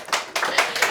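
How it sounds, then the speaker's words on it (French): An audience at a book club show welcomes a guest with a few loud, distinct claps in a loose rhythm, close and clear with no talking. "Applaudissez le public."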